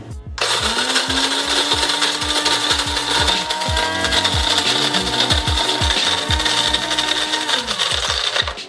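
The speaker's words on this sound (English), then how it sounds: "So this is our coffee grinder." An electric coffee grinder set to grind level 6 grinds coffee beans with a loud, steady whir and a rattling crunch that runs without a break for the whole stretch.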